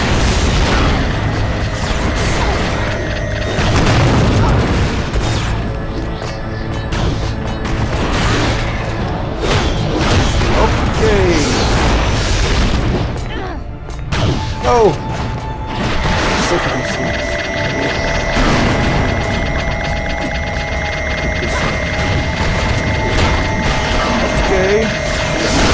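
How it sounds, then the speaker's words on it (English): Cloning tanks smashed and blown apart in the Marvel Nemesis superhero fighting game: a dense, continuous roar of booms, crashes and mechanical clatter, loud and close throughout, with occasional speech mixed in. "Destroy the cloning tank."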